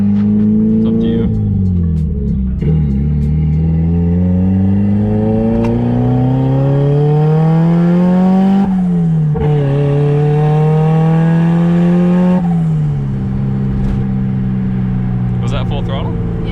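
A turbocharged Mazda Miata accelerates hard at full throttle, the engine note climbing through the revs, dropping at two gear shifts, then pulling again. It is loud and close, heard from inside the car.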